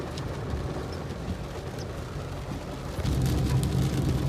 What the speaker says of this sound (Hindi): बारिश बहुत बहुत बहुत तेज़ हो रही है